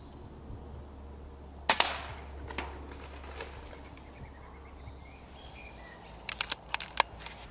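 A single sharp air rifle shot cracks out just after dusk at a rat by a bait spot near a pheasant release pen, followed by a few fainter mechanical clicks and ticks a few seconds later over a quiet outdoor background.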